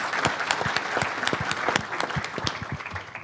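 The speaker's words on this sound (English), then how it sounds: "Let's give them all a round of applause." An audience at an annual meeting claps in a steady, moderately loud round of applause, with many individual claps blending into a dense patter throughout.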